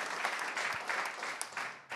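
An audience at a French foundation's stage event claps together, a brief, fairly quiet burst of many hands with irregular louder spikes, no voices over it.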